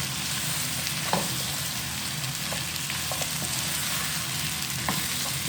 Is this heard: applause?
no